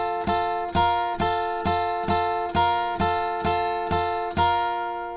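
A guitar repeats a short figure from a solo, about ten evenly spaced plucked notes, clean and close, each ringing out briefly before the next, with no talking.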